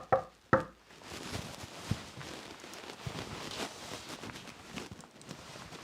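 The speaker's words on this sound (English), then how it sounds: "I've tried it twice now, maybe I'll knock." Someone knocks on a door: two sharp raps right at the start, followed by quiet, faint shuffling room noise.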